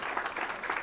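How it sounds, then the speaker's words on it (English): A brief burst of dense applause at a school board of education meeting, a steady crackle of many hands clapping together. "if we could have a round of applause for all of our kindergarten and fifth grade students"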